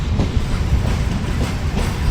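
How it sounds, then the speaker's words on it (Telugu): A Secunderabad–Vijayawada passenger train rolls along near Valigonda toward Ramannapet, its steady low rumble and rhythmic wheel clatter filling the whole stretch without any voices. "మన ట్రైన్ వలిగొండ నుంచి అయితే బయలుదేరిపోయింది"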